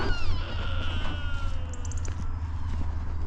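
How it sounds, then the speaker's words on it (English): A drawn-out, wavering call of a rutting deer in Dorset rises over a low background rumble, followed by a few fainter calls. "rutting sounds coming from right by the house there"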